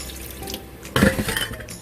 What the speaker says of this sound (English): I wash all the starchy white stuff off the rice